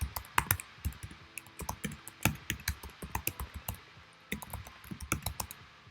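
Text typed on a computer keyboard in quick irregular bursts of sharp clicks, with brief pauses between runs, close and fairly quiet.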